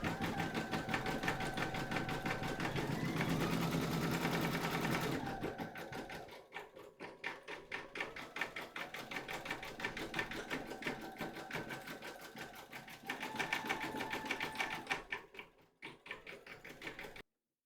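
An embroidery machine stitching a Halloween kitty design in white thread, a rapid steady mechanical chatter of the needle close by, pausing briefly and then resuming at the same even pace.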